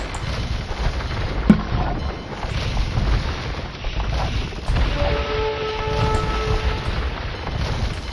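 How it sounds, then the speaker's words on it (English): Cannon galleons fire on a castle in a real-time strategy game battle: booming shots and muffled impacts with one sharper blast early, over a constant low rumble of game ambience and faint interface tones. "Mixed in some cannon galleons, taking down that castle almost immediately as soon as it was built."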